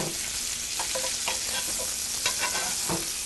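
Pork chops sizzle in a pan with peppers while pan juices are spooned over them, a constant close frying hiss broken by light clinks and scrapes of the spoon.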